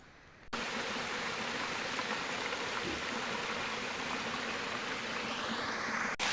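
Water flows steadily in a roadside stream in a village during heavy rain, a constant soft rushing wash that starts abruptly and continues evenly with no talking.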